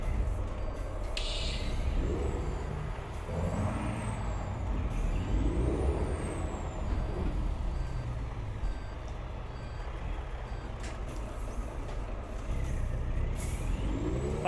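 Truck air brakes in the Euro Truck Simulator 2 video game hiss in sharp bursts over a steady engine drone, with reversing beeps sounding partway through and no talk.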